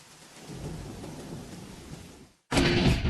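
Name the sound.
heavy rain and thunder in a TV ad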